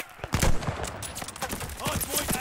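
Gunfire in the online shooter Call of Duty: Vanguard, a rapid run of loud, close shots in bursts across the whole stretch, with faint game noise between them.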